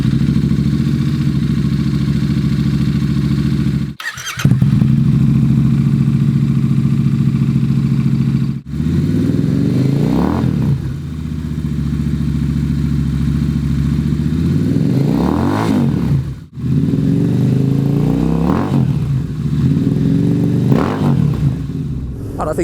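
Royal Enfield Interceptor 650 twin idling and revving with aftermarket Hitchcocks header pipes, recorded close from about two meters, with repeated throttle blips rising and falling and brief cuts between runs; no talking.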